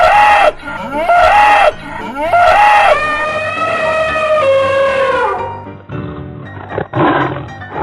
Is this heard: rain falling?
no